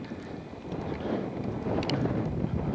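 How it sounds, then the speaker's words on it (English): Wind blows outdoors in a New Mexico rock landscape, a gusty low buffeting rumble against the microphone that slowly builds in strength, with faint scattered clicks. "The wind is picking up here."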